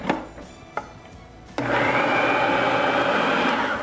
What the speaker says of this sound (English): then you put them in the food processor